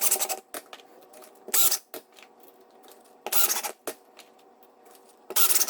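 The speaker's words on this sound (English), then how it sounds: "let's go and put a few screws into the plug" A power screwdriver drives screws into a drywall patch plug backed by a backer board, giving four short, loud whirring bursts separated by quiet pauses.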